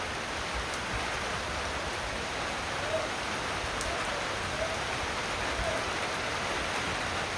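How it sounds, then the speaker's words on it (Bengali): Rain falls steadily over rural paddy fields under cloudy skies, a soft even hiss of raindrops with no breaks, fairly faint and distant. "এই দেখেন ফোটা পড়তেছে"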